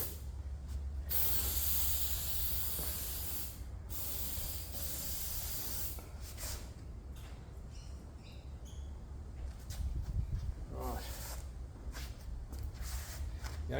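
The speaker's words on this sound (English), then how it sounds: "we're just using a spray glue. Sika is a product." Sika spray glue being sprayed outdoors on a hot day: a soft, continuous hiss rises and falls in short bursts against faint background noise, with no voices.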